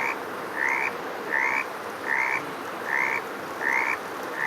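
A frog in the 99 Nights in the Forest video game croaks in a steady repeating rhythm, five or six evenly spaced rasping calls over a constant hiss of forest ambience.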